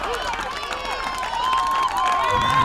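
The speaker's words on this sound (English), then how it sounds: "As the crowd really erupts for that one." A softball crowd at Robinson Park roars after a base hit in a 2021 WIAA game, with sustained cheering and some clapping under a commentator's voice.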